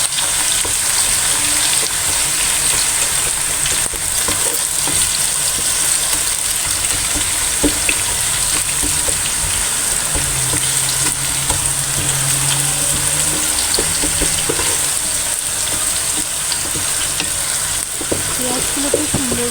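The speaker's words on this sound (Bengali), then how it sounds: "পেঁয়াজগুলো আমি দিয়ে দিছি" Onions fry in hot oil in a wok with a loud, steady, close sizzle that crackles continuously, with occasional stirring scrapes and no speech.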